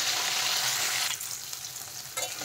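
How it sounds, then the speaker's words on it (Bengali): Katla fish fries in hot oil in a pan, a steady loud sizzle that drops slightly in level after about a second and continues crackling with a brief stir or flip near the end. "দেখেন মাছ কিন্তু ভালোভাবে ভাজা হয়ে গেছে।"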